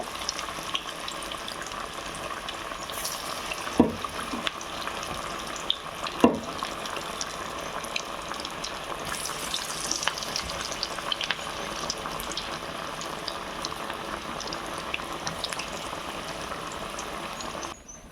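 Potato vada frying in hot oil gives a steady crackling sizzle that carries evenly through the whole stretch, with a couple of sharper clinks or splashes near the start and no voices.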